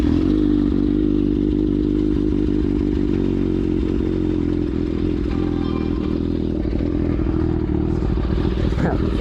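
A 2020 Kawasaki ZX6R fitted with an M4 GP slip-on exhaust idles close by, a loud, steady low burbling drone with a rough, pulsing texture and slight clatter.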